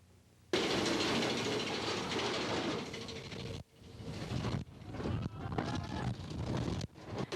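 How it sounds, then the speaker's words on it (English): Big Thunder Mountain Railroad, a runaway mine-train roller coaster at Disneyland, rushes past with a loud, sustained roar of wheels and wind, then a brief drop-off before rumbling, rattling track noise builds again in bursts. "They call it Big Thunder Mountain Railroad, a runaway train ride that takes you through Gold Rush territory."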